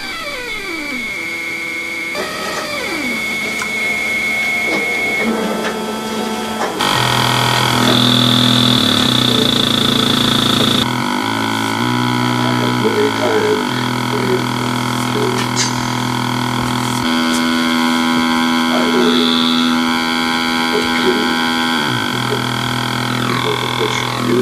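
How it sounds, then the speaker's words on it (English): Buzzy electronic tones from a breadboard version of the Auduino, an Arduino-based DIY synthesiser, shifting between sustained droning pitches and harsh grainy textures in distinct sections, loud and alone. "I'm going to let myself play a few of the first sounds that came out of the breadboard version"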